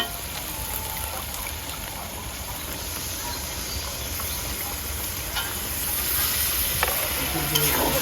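Beef bhuna sizzling in a pan as it is stirred, a continuous soft frying hiss with faint scraping of the spoon, moderately quiet and steady throughout, rising slightly toward the end.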